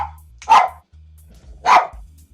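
A dog barks twice in a home, two sharp, fairly close barks about a second apart over a steady low hum.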